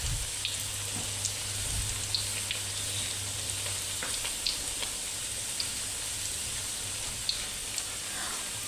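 Peanut crackers (peyek) fry in hot oil in a wok, giving a steady close sizzle with occasional small pops and crackles throughout, and no talking.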